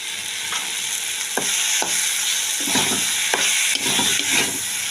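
Kalmi greens fry with sugar in a kadai with oil, a steady sizzle broken by repeated spatula scrapes and stirring strokes, close and moderately loud with no talking.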